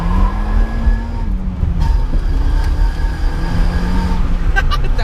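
A 2003 Citroen Saxo VTS hot hatch being driven, steady engine hum and road noise from inside the cabin with gear-change dips, under someone talking throughout.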